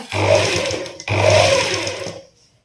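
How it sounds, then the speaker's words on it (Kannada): Sewing machine stitching the shortened hem of jeans through thick denim: two steady, loud whirring runs of stitching split by a short stop, close up, then fading to quiet. "ಇವಾಗ ನಾನು ಹೊಲಿತೇನೆ, ಕಚ್ಚು ಮತ್ತೆ ಹಾಕ್ಕೊಳ್ತೇನೆ ಲಾಸ್ಟಿಗೆ."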